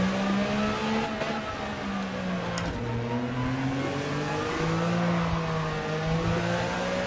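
A car's engine at low revs in the racing game Gran Turismo 7, a steady droning rumble with slowly rising and falling pitch, loud and continuous throughout with no talk.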